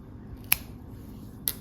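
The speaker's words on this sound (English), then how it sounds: "then this extra, I'm just gonna snip it off." Scissors snip the loose yarn end off a finished crochet skirt, two quick crisp cuts about a second apart against quiet room tone.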